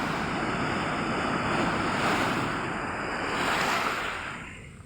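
Heavy surf at high tide on Laoag beach roars continuously, waves breaking and washing in with wind buffeting the microphone; no voices, a dense steady rush that swells and eases.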